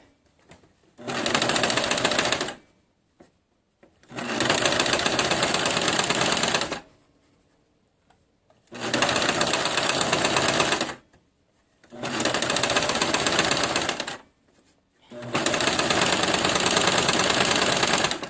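A sewing machine stitches a sleeve into a garment in five loud, close bursts of rapid mechanical whirring, each lasting a couple of seconds and separated by brief near-silent pauses.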